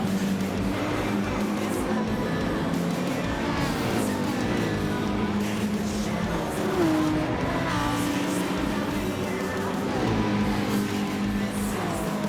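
Race cars in a racing video game, with engines droning and revving continuously while passing other cars in pursuit of a Supra, loud and steady throughout.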